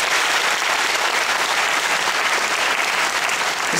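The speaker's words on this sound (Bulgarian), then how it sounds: "Нека чуем вашите аплодисменти за тези важни хора, за близките и родителите, които живеят с мечтите на своите деца." A large audience in the National Theatre applauds parents and families at a Children's Day event, a loud, dense, unbroken roar of clapping that holds steady throughout.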